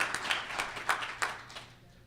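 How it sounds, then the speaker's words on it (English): Scattered applause for the Myeloma Canada team at a multiple myeloma patient seminar, a handful of distinct claps rising and thinning out over two seconds, faint and somewhat distant. "I think we should give the Myeloma Canada people a round of applause"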